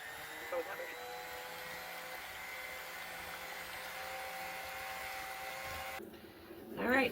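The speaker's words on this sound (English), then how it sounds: "Alright, so this we are going to use the mixer." An electric kitchen mixer runs on low speed while making peanut butter pie filling, giving a steady motor whine with speech over it that drops out near the end, followed by a brief clatter.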